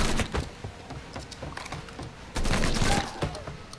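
Gunshots in the video game Mafia 3, a string of sharp cracks and scattered bursts with a heavier volley near the end, all loud and close.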